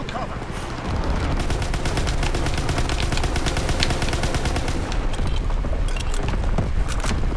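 Dense, continuous automatic gunfire from a Call of Duty WWII battle, a rapid crackle of shots and distant booms running nearly nonstop at high volume after a brief quieter start.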